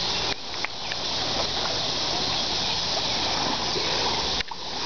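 Floodwater of the Cottonwood River in Emporia, Kansas rushes past in a steady, loud, broadband roar that fills the scene without pause, with a couple of brief dips near the start and end.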